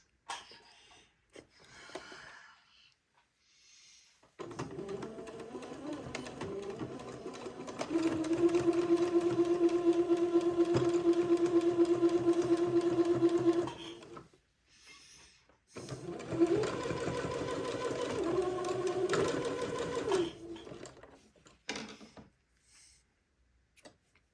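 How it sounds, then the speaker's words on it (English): A home sewing machine sews a straight-stitch hem on batiste pieces in two close, steady runs of about ten and five seconds, separated by a brief pause. Quiet handling sounds come before and after, with no voices. "So let me hem with straight stitch the batiste pieces."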